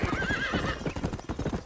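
A horse in the video game Red Dead Redemption whinnies in a rising, wavering call over rhythmic clip-clopping hooves, close and moderately loud.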